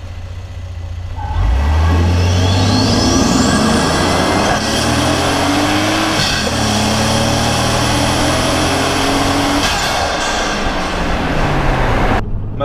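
A Toyota Aristo with a 2JZ engine accelerating hard on kick-down: the engine note surges loud and rises steadily in pitch through the gears, heard from inside the car with no talking.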